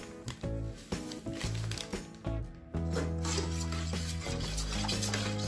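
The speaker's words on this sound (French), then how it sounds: "On va commencer par verser les flocons de pommes de terre tout en remuant." Instant potato flakes from a 125-gram packet being stirred into mashed potatoes, making a continuous, close, rhythmic mixing and scraping in a pot with no voices.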